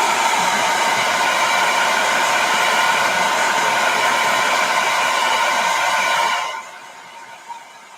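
A hair dryer blows loudly and steadily at close range over modeling paste on a mixed media art journal page, then cuts off abruptly near the end and leaves faint room noise.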